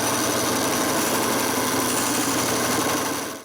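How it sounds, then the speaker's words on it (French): A steady, high-pitched mechanical whine of a band saw running continuously while cutting wooden box joint tails, fading slightly at the end; no voices. "Je coupe donc toutes les queues avec ma scie à ruban."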